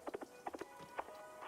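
In the Wanderstop video game, a horse sound plays through a phone as a quick run of soft, hollow clip-clop taps in uneven clusters, faint and without talk.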